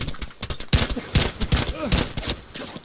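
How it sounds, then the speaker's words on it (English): Rapid gunfire from a weapon in the video game Battlefield V, a string of sharp loud bursts in quick succession, with voices and other game sounds mixed in. "What gun is that? That's a noisy wrecker."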